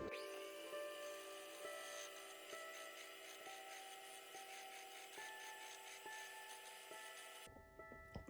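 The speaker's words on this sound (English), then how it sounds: "Now I'm going to use this chisel, which is not made for turning, and do some turning." A chisel shaves wood spinning on a lathe, giving a steady whirring hum with regular faint ticking from the rotation, fairly quiet throughout and stopping abruptly at the end.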